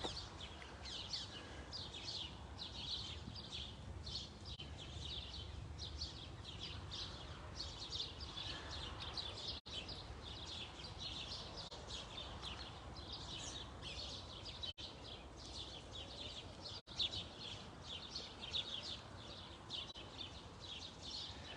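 A small bird chirps while feeding on its breakfast outdoors, sending out a steady run of quick, high, bright calls that repeat throughout, close and fairly prominent over a low background hum, with no talking.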